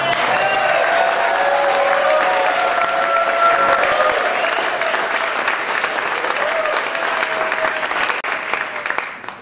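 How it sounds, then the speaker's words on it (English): An indoor audience at a civic honors ceremony for a DC tennis team keeps up steady, dense applause for several seconds, with faint voices and tones beneath the clapping before it gradually eases. "Now that's really nice, polite applause for our young people."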